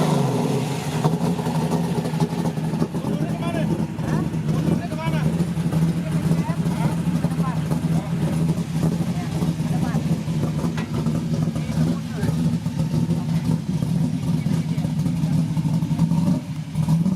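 A Mitsubishi Triton Monster with a dog-drive transmission starts up, and its engine settles into a loud, steady rumble with rising revs throughout. A voice talks over the engine noise.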